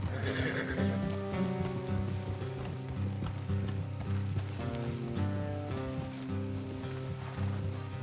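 Horses in the Red Dead Redemption 2 video game neigh and whinny while their hooves clip-clop steadily at close range, under a low continuous rumble of movement.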